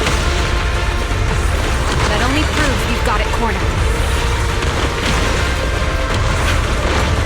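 Repeated booming explosions from the video game Zenless Zone Zero, loud and dense, rumbling continuously beneath a character's spoken line and game music.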